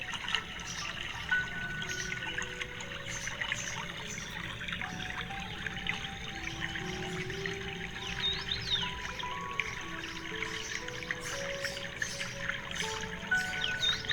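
Pitha batter spooned into hot frying oil, a steady bubbling sizzle with soft crackles throughout, close and continuous with no talk.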